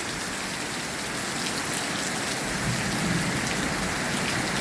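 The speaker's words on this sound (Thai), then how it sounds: "เพราะว่าฝนแรงน้ำก็เริ่มแห้งแหละ" Heavy rain pours down steadily in a dense, even hiss, close and loud throughout, with no voices.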